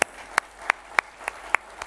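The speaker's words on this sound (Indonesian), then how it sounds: "Mari kita tepuk tangan buat Dia." A church congregation at an Easter Sunday service claps in a steady, even rhythm, about seven sharp claps in under two seconds, with no talking.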